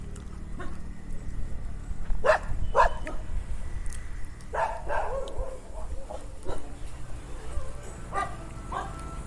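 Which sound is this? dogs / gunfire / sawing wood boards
dogs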